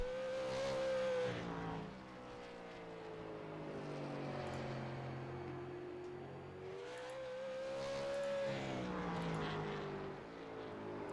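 A race car at South Boston Speedway completing a qualifying lap, its engine rising and falling in pitch as it sweeps past and circles the track, heard from a distance without talk.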